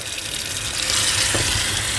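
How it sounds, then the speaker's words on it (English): Tap water runs steadily into a sink being pre-filled, a close, continuous splashing hiss that swells slightly partway through. "I'm going to turn on the water to pre-fill my sink."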